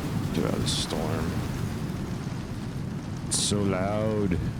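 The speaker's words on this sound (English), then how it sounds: "Get out of the storm." Rain and a thunderstorm in the survival game Icarus make a steady, dense hiss throughout, with someone talking over it.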